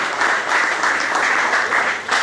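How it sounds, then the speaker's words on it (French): An audience in a restaurant courtyard applauds a chef, a steady burst of clapping from many hands at close range. "Chers amis, on va l'applaudir très fort pour l'encourager"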